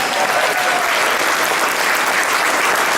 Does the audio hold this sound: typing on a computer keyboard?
no